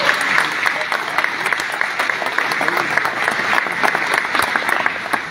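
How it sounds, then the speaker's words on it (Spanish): Sustained audience applause at a political rally for a Senate candidate in Agua Prieta, Sonora, a dense steady clapping from a sizeable crowd throughout. "queremos darle un caluroso aplauso por estar entre nosotros a Luis Rivera"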